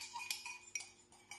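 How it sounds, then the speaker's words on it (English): A teaspoon scrapes and clinks against a mug while scooping white chocolate caramel milkshake powder, a few close, light metallic taps and scrapes in a short burst. "Let's do a teaspoon into the mug."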